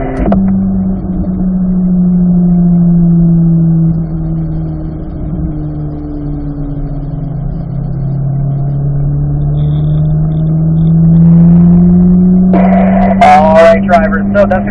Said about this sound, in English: So we'll just get the cars into fourth gear here